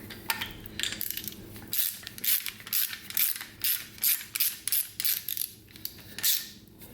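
A ratchet tightens bolts by hand on an LS engine's valley cover and heads, repeated short metallic clicking bursts in a steady rhythm, close and fairly clear with brief pauses between strokes.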